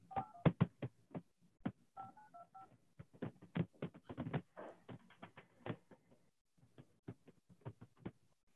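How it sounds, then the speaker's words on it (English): Telephone keypad tones beep in a series of short, separate presses with uneven gaps, a few paired tones among them, close and moderately quiet. "let's get one more outbound dial in"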